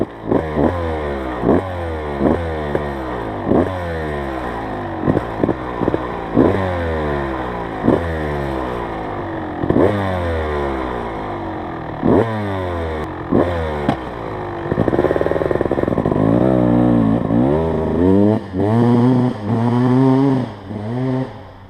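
A Kawasaki KX250 dirt bike, freshly refilled with coolant and gear oil after a water pump seal replacement, starts up and runs close by, with a series of sharp throttle revs rising and falling over a rough two-stroke idle.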